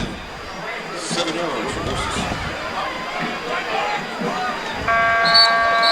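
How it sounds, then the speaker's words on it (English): An end-of-quarter buzzer sounds at a high school football game, a steady electronic tone that cuts in near the end over continuous crowd noise and voices in the stands. "Snapped it after the buzzer."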